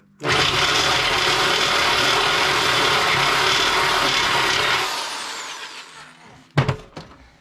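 A loud, continuous grinding drill whine through metal on a twin cam chopper's gas tank runs for about five seconds, then winds down, followed by a couple of sharp metallic clanks.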